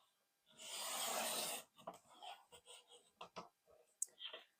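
A 12x12 paper sheet being cut vertically: one steady rasping stroke lasting about a second, followed by scattered light clicks and taps at close range.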